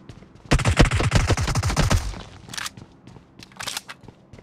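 Rapid bursts of automatic gunfire from a PUBG Mobile squad match: a dense rattling volley up close, then a few scattered shots and clicks, with no talk over it.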